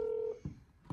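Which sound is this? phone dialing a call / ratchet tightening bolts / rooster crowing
phone dialing a call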